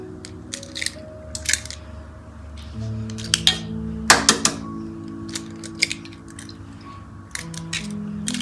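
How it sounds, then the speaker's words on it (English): Two eggs cracked into a bowl while making agar agar seri kaya with coconut milk: a handful of sharp, brief taps and cracks close by, scattered over a low steady background hum, with no talking. "I'm going to break in 2 eggs"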